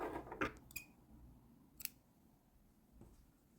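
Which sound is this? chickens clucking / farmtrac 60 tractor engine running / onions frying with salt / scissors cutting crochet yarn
scissors cutting crochet yarn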